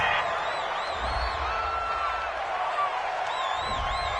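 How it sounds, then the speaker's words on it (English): A home crowd at an American football game cheers a favorable penalty flag on third down, a broad roar that swells and stays up under commentators talking over it. "This home crowd, they're happy with that call."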